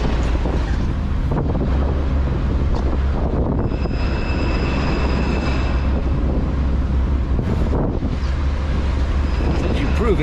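Strong wind buffets the microphone while a canal boat is steered in high winds, with a steady loud roar and low engine rumble throughout.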